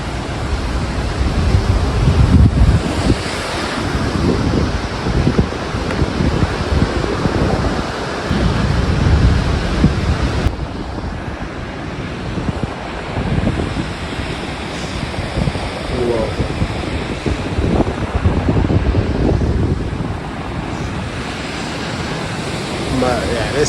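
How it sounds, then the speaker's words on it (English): Waterfalls pouring into plunge pools near a castle viewpoint in the Alps, heard as a steady, loud broadband rush with gusty wind buffeting the microphone throughout. "But really nice waterfalls and amazing plunge pools."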